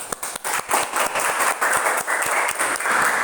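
A classroom of students applauds a group after its presentation, steady close clapping filling the room for a few seconds.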